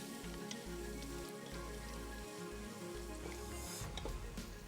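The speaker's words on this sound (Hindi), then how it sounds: "मसाले को अच्छे से भूनना है" Masala fries in a pan with a steady, quiet sizzle and crackle, a soft continuous spattering heard close up without talk.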